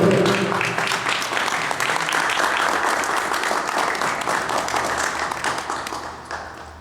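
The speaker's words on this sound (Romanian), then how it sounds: "Aplauze, vă rog, pentru categoria junior." Audience at a junior-category award moment of a pageant or contest applauds loudly and continuously, a thick wash of clapping that holds steady before easing off at the end.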